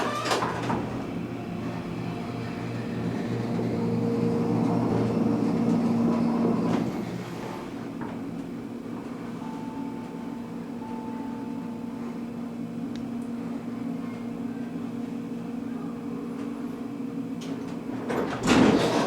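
A Montgomery hydraulic elevator at Chicago Union Station levels at a floor with a low sustained hydraulic hum and rumble, a brief mechanical whine and faint clunks, then its doors slide at the end; no one speaks.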